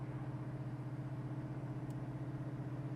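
A 1974 Plymouth Road Runner cruising with a steady, low engine drone and a faint throaty exhaust note, continuous and even throughout with no talking.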